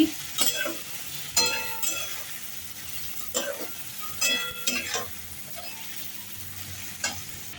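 Spices with salt and turmeric fry and get stirred in a pot for khichuri: a constant low sizzle broken by repeated scraping strokes of a spoon against the pan, close and clear, with no talk.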